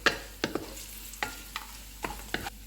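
Whole spices frying in hot oil over golden-brown onions while a spoon stirs them, with a soft steady sizzle broken by about eight sharp scraping strokes.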